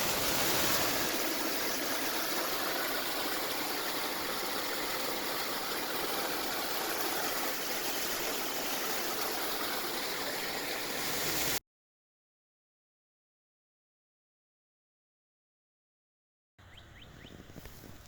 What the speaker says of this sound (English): this just shows kind of the pure amount of water that was coming down